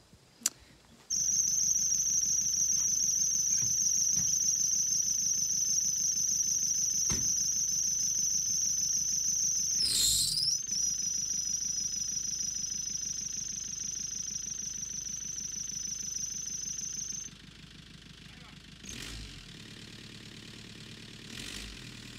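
A car engine idles and revs steadily while turning a caravan around in a tight space, with a continuous high whine over the rumble for most of the stretch. It then drops to quieter running near the end.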